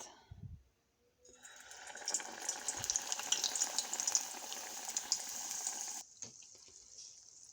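Filled dough pieces stuffed with cheese or meat go into a pot over low heat, giving a soft, steady bubbling hiss that begins after a second, runs about five seconds, then stops abruptly. Fairly quiet, with no talking.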